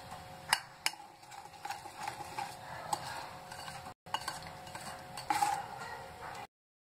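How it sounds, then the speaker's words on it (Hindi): Eggless sponge cake batter with added milk is stirred in a bowl, giving quiet, steady scraping and swishing with occasional light clinks of the utensil against the bowl, with no talking. "अगर फ्रेंड्स आपका बैटर थोड़ा सा टाइट हो तो आप उसमें दूध और डालें। इसको अच्छे से मिक्स करें,"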